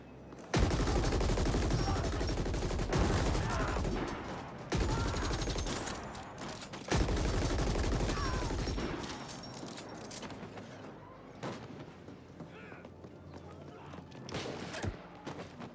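Dense bursts of automatic gunfire rattle through the video game The Ascent, loud and continuous for several seconds with brief breaks, then thin out into scattered shots and thuds.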